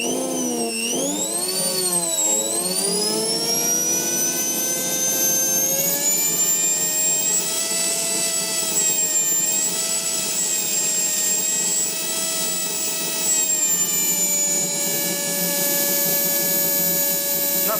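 Small electric motor spinning at very high speed, a loud, steady whine with strong harmonics that sweeps up and down at the start, then holds a sustained near, piercing pitch for many seconds.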